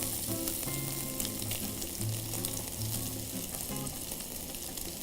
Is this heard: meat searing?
yes